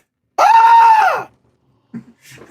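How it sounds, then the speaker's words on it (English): A single loud, drawn-out shriek of pain, sharp and close, rising then trailing off, followed by brief faint noises after a pause. "the unmistakable shriek of pain echoed through the attic"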